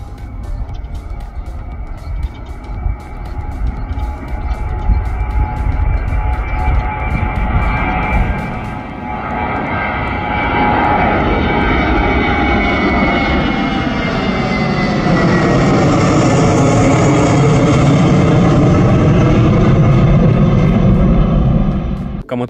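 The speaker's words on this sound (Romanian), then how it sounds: "au decolat doar două avioane" Airplane taking off from a Bucharest airport, a long roaring engine swell that builds from a steady drone into a loud whining rush, held close and powerful for over twenty seconds.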